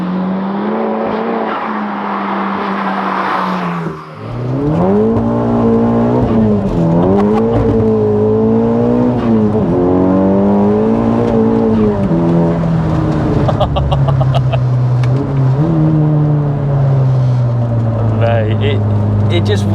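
A 384bhp Mk2 SEAT Leon Cupra R roars loud and close under hard acceleration, its engine note climbing through repeated rising sweeps with brief dips at gear changes, and voices talking over it inside the car.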